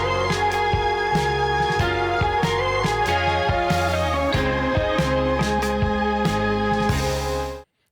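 The original recording of a song plays back, a full K-pop production with bass, drums and layered synth and vocal parts, loud and continuous before ending abruptly.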